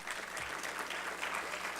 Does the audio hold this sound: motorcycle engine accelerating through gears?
no